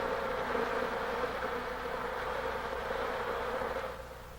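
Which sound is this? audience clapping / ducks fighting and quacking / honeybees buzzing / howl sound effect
honeybees buzzing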